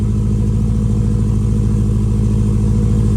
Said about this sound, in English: It sounds like it's idling smoother.